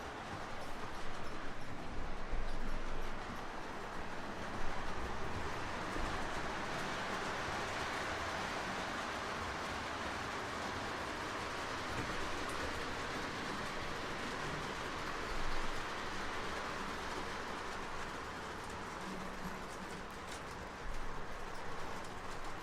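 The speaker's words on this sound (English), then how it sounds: "there goes the caboose" Train with a smoking caboose rolling past, a broad continuous rumble and rattle of rail cars that stays steady throughout, with occasional louder swells.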